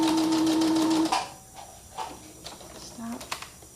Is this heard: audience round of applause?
no